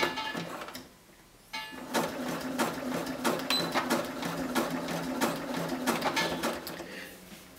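A sewing machine runs a zigzag stitch along a trouser waistband, a steady close mechanical whirr with rapid clicking that starts after a brief pause and keeps going.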